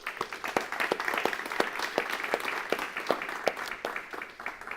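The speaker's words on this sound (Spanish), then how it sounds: "Me gustaría que agradeciéramos públicamente a estos hermanos con un aplauso" A church congregation gives thankful applause to the organizers; a modest crowd's claps come through as distinct, fairly sparse sharp strikes over a soft clapping bed, steady and unaccompanied by talk.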